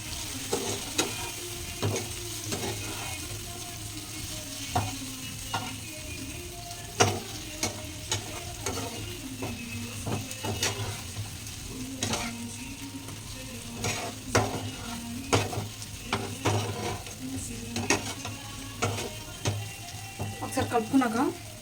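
Egg curry masala sizzles softly in a frying pan while a spoon stirs it, making repeated scraping clicks at an uneven rhythm over a low background hum, with no speech.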